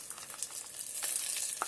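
Tomatoes, carrot, capsicum and green peas frying inside an electric kettle for soupy pasta, giving a soft, steady sizzle with faint crackles and a brief stir near the end, close and fairly quiet.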